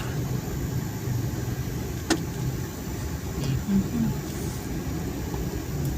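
A Suzuki DA64V mini van drives through slow traffic on a hot day, giving a steady low engine hum from inside the cabin, with a brief click and faint passing sounds.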